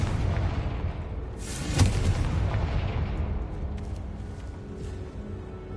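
A Confringo blasting spell in the video game Hogwarts Legacy detonates with a single sharp blast that swells into a rumbling boom, then a long fading roar of debris settling.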